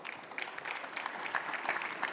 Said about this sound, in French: Je pense qu'on peut applaudir nos intervenants.